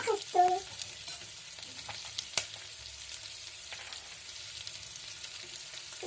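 Pulao ingredients being stirred with a spoon in a pressure cooker, with a soft continuous sizzle, a few light metallic clinks and scrapes, and a close, fairly quiet sound.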